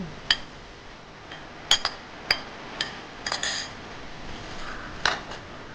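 Chopped nendran bananas dropped into a pot for an Onam dish, a series of sharp metallic clinks and taps scattered over several seconds, fairly close and otherwise quiet.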